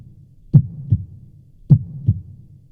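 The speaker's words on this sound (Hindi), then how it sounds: "दिल की धड़कनें तेज" Heartbeat sound effect with two deep lub-dub thumps, each a strong beat followed quickly by a softer one, booming and low, alone against near silence.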